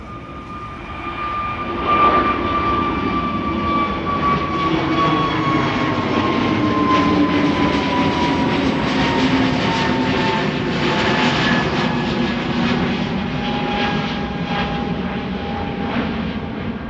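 A KLM Airbus A321neo airliner, flight 1031 to Manchester, at Amsterdam Schiphol, rises into a steady loud jet roar with a drawn-out whine sliding slowly downward, holding strong throughout.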